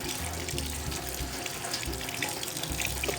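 Fish pieces rinsed under a running kitchen tap, a steady loud gush of water splashing into a sink with shifting splatter as the pieces are rubbed clean.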